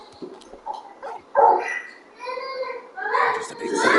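A large dog barks and yips in the video game Final Fantasy XVI, short irregular calls mixed with a character's voice speaking.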